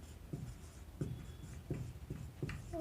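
A pen scratches on paper while a math answer is written out, soft short strokes in a steady rhythm of about five marks, close and quiet.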